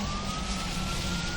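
A Sussex County paramedic ambulance passes with its siren sounding as a steady, slowly rising wail over loud, constant road and rain noise.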